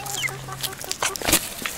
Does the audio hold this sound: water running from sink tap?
no